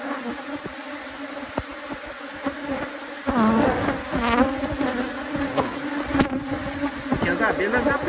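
Dense, steady buzzing of many honey bees swarming close by at a hive, growing louder and busier after a few seconds.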